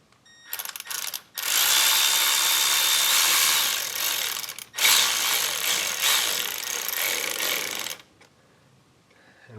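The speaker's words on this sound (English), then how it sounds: "Open it up, put it in the bottom, and tighten her down." A hose clamp on a coolant overflow tank hose is driven tight with a power tool, making two long, loud, steady whirring runs split by a short pause, close up with no speech.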